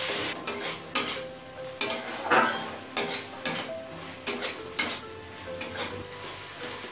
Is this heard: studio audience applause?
no